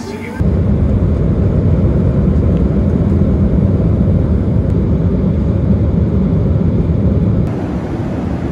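Steady, loud jet engine roar surrounds passengers boarding an airplane, a dense constant rumble that holds unbroken before easing slightly at the end.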